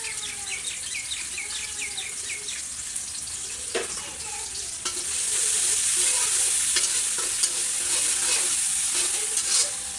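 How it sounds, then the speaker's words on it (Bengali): Chopped onions frying in oil for a village-style fish curry, stirred with a spatula: continuous close sizzling that swells louder halfway through, punctuated by scattered scrapes and taps, with no talking. "তো এখন পেঁয়াজগুলো আগে ভেজে নেব।"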